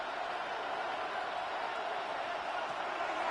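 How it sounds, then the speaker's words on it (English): Stadium crowd in a football video game swells into a steady, broad roar, loud and continuous throughout without distinct voices. "What about this crowd getting even louder before 3rd and 10?"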